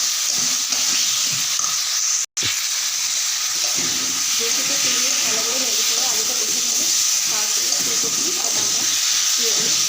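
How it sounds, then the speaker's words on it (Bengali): Spices and salt sauté in a hot pan for a fish curry, giving a steady close hiss and sizzle, briefly cut to silence once, while someone talks over the frying. "আবার কষিয়ে দু মিনিট মতো নাড়াচাড়া করে কষে নিয়েছি"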